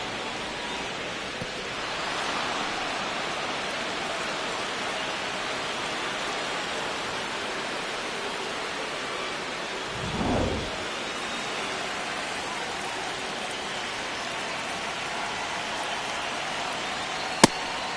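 Steady rain hisses continuously on a stormy night at a Phillies vs. Cardinals baseball game in MLB The Show 26. A single low thunder rumble rolls through near the middle of the clip. No one talks.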